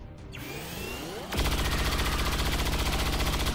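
Gunfire in the video game XCOM 2: after a rising whoosh and sweep, a loud, dense burst of rapid automatic shots begins and continues steadily to the end, without speech.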